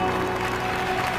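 Crowd applause at the 4L Trophy 2024 rally ceremony, a brief even wash of clapping over a steady tonal background sound.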